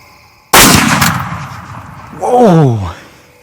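A single loud rifle shot fired while hunting whitetail deer, a sharp close crack that rings out and slowly fades, followed by an excited voice exclaiming.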